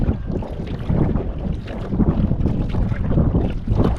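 A small fishing boat is paddled on the sea after its engine would not start, with continuous water wash and heavy wind buffeting the microphone; no talking.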